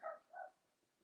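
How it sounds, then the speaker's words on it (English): A neighbor's dog barks outdoors, two quick muffled barks at a distance, faint behind an indoor room, followed by quiet. "you can hear my neighbor's dog outside during this video now as well"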